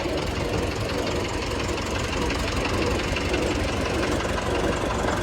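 The rough, knocking diesel engine of a modified 1991 model 5911 tractor idles steadily and loudly throughout, with a dense low rumble and rattling vibration, no pauses.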